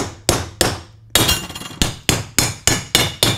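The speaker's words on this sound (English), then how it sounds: "use one of these tools and just start the bushing down" A tool is hammered to drive a bushing into a Muncie 4-speed transmission, giving about ten sharp metallic strikes that are close and loud, coming in an uneven rhythm at first and then at a steady, quickening pace.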